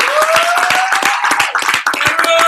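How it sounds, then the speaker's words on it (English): An audience claps for contestants at a convention, with distinct, quick, loud handclaps close by and a sustained tone running beneath them. "Give them a big round of applause."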